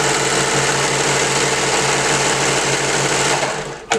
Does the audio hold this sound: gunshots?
no